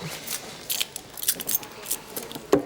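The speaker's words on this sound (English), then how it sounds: "You got the keys. You put them back on the tank stand?" A bunch of keys jangles in short metallic clinks and rattles near the microphone, several brief bursts spread across a couple of seconds over quiet background.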